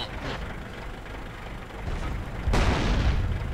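Tank shells striking the player's vehicle in World of Tanks, heard as a deep boom over a low mechanical rumble, with a sharper, heavier impact hitting near the end.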